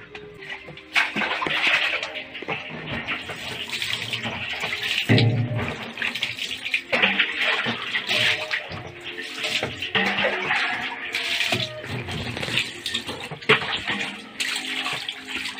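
Water splashing and running steadily, like a tap or spray filling a basin, with irregular gushes and splatters over the whole stretch, fairly close and moderately loud.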